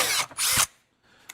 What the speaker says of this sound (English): Let me drill these holes and we'll put some rib nuts in it.